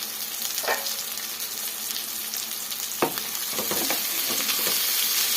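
Food with tamarind fries in a pan for a home-cooked Kannada recipe, giving a steady, close sizzle throughout, broken by a few sharp clinks and scrapes of stirring.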